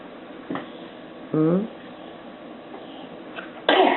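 A single sharp sneeze from a small child stands out amid quiet room noise, followed a couple of seconds later by a brief burst of speech.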